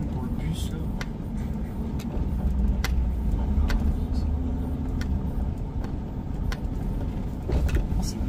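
A bus rumbling close past a car on a London street, a steady low engine drone with faint clicks and rattles throughout, heard from inside the car.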